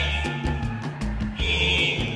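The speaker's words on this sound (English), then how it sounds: "We just set off the building's fire alarm with our fog machines." A building's fire alarm, set off by fog machines, sounds as a steady high electronic tone that grows stronger partway through, over a low pulsing background.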